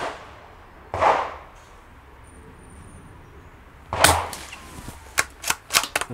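Distant 12-gauge shotgun blasts from a nearby shooting range echo outdoors: one isolated report, then after a quiet gap a second shot followed by a quick cluster of sharper, fainter cracks.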